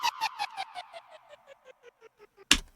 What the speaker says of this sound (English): So it's just created a downer out of a random hit.